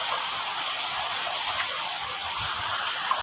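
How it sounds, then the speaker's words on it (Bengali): Heavy storm rain pours down in a dense, steady roaring hiss that stays constant throughout, with no voices. "এখন ঝড়ে ঝমঝমিয়ে বৃষ্টি হচ্ছে।"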